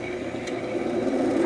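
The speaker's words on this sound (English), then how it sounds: "We can just rev the engine" An SD45 diesel locomotive model train sound module revs its engine in a steady low droning throb that builds slightly in loudness, with no voice.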